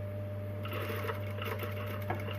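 Sewing machine running steadily while stitching a centimetre seam on a tote bag, a continuous mechanical hum with a faint rattle of the needle.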